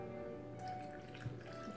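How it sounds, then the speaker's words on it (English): Whole milk is poured for an almond banana smoothie, a soft, steady liquid stream with faint splashing, quiet and close against a low background hum. "Pour the milk, the whole milk."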